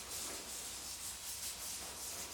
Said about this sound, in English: I use a scrubbing motion because that gives me the fluffy